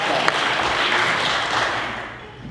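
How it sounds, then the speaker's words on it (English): A crowd at a mayors' breakfast in South Pasadena applauds in a loud, continuous burst of many hands clapping together, which gradually tapers off toward the end. "Give another round of applause."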